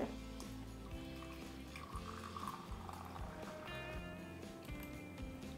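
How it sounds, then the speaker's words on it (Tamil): Homemade caramel tea is poured through a strainer, a soft, steady trickle of liquid heard close up over faint background tones, with no one speaking. "இப்போ இந்த டீயை நம்ம வடிகட்டி எடுத்துக்கலாங்க"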